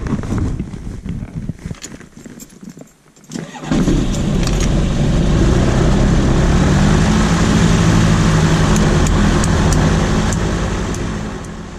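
A gyrocopter engine cranks with a few uneven turns, briefly goes quiet, then catches and roars into a loud, steady run close by.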